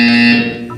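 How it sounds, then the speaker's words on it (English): A buzzer tone from the video game Portal 2, a loud steady electronic drone with a strong fundamental and bright harmonics, held for most of the short clip and fading slightly toward the end. "You will hear a buzzer."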